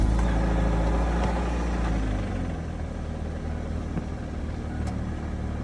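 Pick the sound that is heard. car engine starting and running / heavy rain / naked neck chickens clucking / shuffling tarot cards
car engine starting and running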